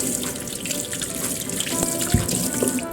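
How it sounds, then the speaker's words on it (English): A kitchen tap runs steadily while hands are washed beneath it, a close, continuous splash of water with a few brief knocks and drips in the basin, and no talking. "Wash your hands."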